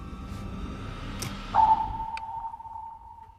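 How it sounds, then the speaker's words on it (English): A single sonar ping rings out clearly, then trails off in a long, fading tone over a low rumbling background, no voices. "Crow, give me one sounding for Deb on their ping"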